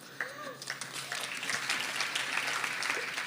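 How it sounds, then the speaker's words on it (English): Audience applause fills the hall after a concert at the Music Academy Madras, a dense, steady wash of many hands clapping that swells slightly and carries on without a break. "the rapturous applause and the standing ovation that the artist received was incredible"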